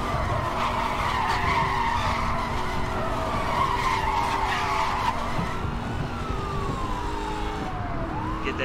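Tires skid and squeal continuously as a car drifts in the Need for Speed: Hot Pursuit racing game, a loud sustained screech over engine roar with a siren-like wail sweeping through, no talking.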